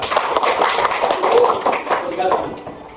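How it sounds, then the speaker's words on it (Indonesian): A classroom group of students applauds a presenting student group, with brief scattered clapping heard over ongoing talk. "Silakan berikan tepuk tangan pada kelompok 3"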